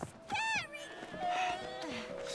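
A cat meows in the video game It Takes Two, with a short rising-falling cry followed by softer mewing and other game sounds close by.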